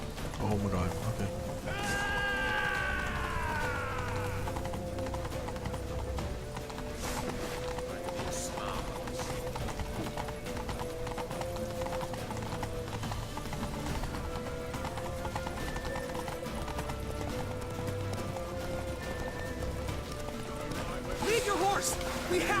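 Horse hooves drum in The Witcher 3 during a fast ride through a town, a constant rhythmic clatter mixed with game music and a short neigh early on.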